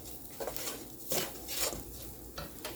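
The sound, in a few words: stirring rice into onions in a pot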